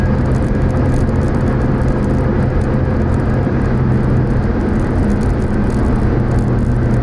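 Cars on the new Tanjung Pura–Binjai toll road with palm plantations on both sides, heard as a steady, loud road rumble and tyre roar throughout without distinct pass-bys.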